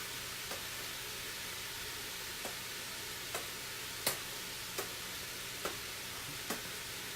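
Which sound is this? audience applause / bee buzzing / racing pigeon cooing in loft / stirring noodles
stirring noodles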